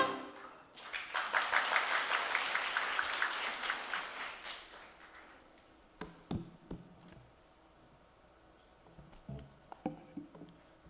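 Church congregation clapping at a Sunday gospel service, a dense burst of applause for the first half that fades into scattered claps and knocks, with no talk over it.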